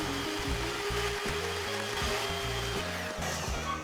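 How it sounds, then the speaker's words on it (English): An electric whisk beats thick brownie batter with a steady, close motor whine that pulses slightly as the beaters move through the mix, with no voices. "so we'll whisk this for a little bit longer"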